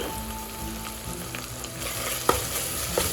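Freshly grated raw coconut frying in a pan, a steady close sizzle with soft stirring scrapes and a couple of sharper clinks of a spoon against the pan.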